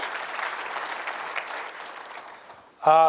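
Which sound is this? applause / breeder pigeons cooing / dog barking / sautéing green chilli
applause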